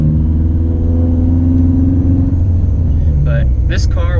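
A Subaru WRX making 500 wheel horsepower pulls hard under turbo boost, a loud, steady engine drone and road rumble from inside the car, with a voice talking over it.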